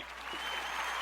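A short burst of canned applause, a dense wash of clapping that swells slightly over about a second, fairly faint.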